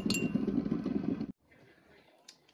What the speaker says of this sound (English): Gonna stir this up.